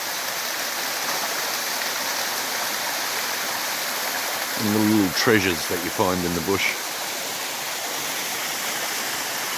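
A small cascading waterfall in the New Zealand bush gives a steady, full rush of falling water throughout, and someone speaks briefly over it midway.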